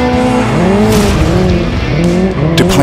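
A Hyundai IONIQ 5 N drifting with hydraulic side brakes, its tires squealing in long wavering screeches over a steady motor hum, loud and close, with no talk.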